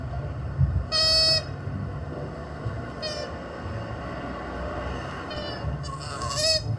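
A baby koala in the wild calls to its mother in a few loud, nasal, honking cries, one long call near the start and shorter ones later, over quiet outdoor background.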